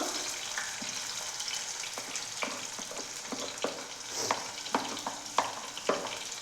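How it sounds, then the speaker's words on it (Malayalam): Finely chopped onions sizzle steadily in hot oil in a home kitchen, a continuous frying hiss punctuated by small crackles and occasional stirring clinks, with no talk. "ഇനി ചൂടായ എണ്ണയിലേക്ക് നമുക്ക് പൊടിയായി എരിഞ്ഞ് സവാള ഇട്ട് കൊടുക്കാം"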